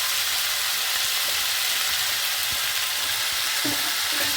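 Asafoetida and boiled potatoes fry in hot oil in a pan, a steady close sizzle with a few faint clinks near the end.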